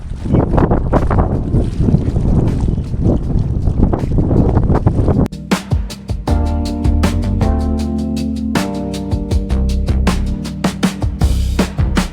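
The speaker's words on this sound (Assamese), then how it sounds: "বতাহ মাৰিছে আৰু" Strong wind blowing across the microphone at Umiam Lake in Meghalaya, a loud, close, rumbling roar for several seconds that then gives way to sharper, steadier sounds.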